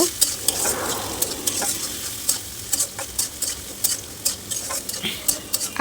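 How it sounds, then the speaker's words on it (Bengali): Onion, garlic and green chili fry in a kadai with a constant sizzle, broken by repeated sharp scrapes and clinks of a spatula stirring against the pan. "এখানে আমি ভেন্ডি ভাজার জন্য কড়াইতে পেঁয়াজ রসুন কাঁচামরিচ দিয়ে দিলাম"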